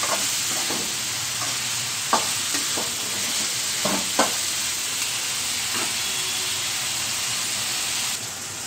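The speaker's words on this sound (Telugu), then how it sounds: "మూత తీసుకొనే గోలించుకోవాలి బీరకాయ ముక్కలను." Ridge gourd pieces fry in a pan with a loud, continuous hissing sizzle, while a spoon stirs and scrapes in irregular taps over the steady frying noise.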